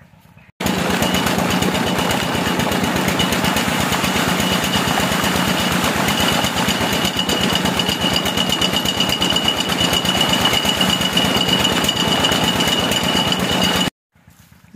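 A tube well pump engine runs steadily and loudly at close range, a constant droning, thumping mechanical rumble that holds unbroken for about thirteen seconds before cutting off.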